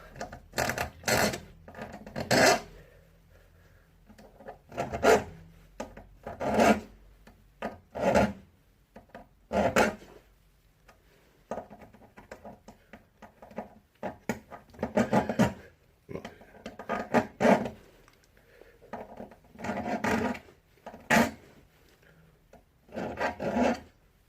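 A metal file rasps against a saw chain in repeated bursts of quick strokes, with short pauses between sets, close and fairly loud.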